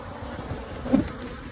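Angry honey bees buzz steadily around an open hive during a late-summer split, a dense close drone with one brief louder swell, no voices.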